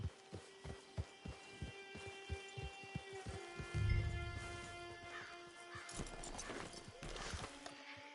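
Horse in the game Red Dead Redemption 2, steady rhythmic hoof clip-clops on ground with a snorting whinny midway, fairly close, over soft ambient music.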